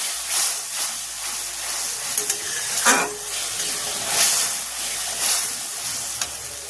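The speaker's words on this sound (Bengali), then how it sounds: "এবারে দিয়ে দিচ্ছি যে সর্ষেটা আমি বেটে ছেঁকে রেখেছিলাম ওই সর্ষেটা দিয়ে দিচ্ছি। এবার আমি একটু নেড়ে দেব।" Ground, strained mustard paste sizzling and hissing in a pan for sorshe ilish, with soft stirring scrapes and a few louder bursts of spluttering over a steady background hiss, and no voices.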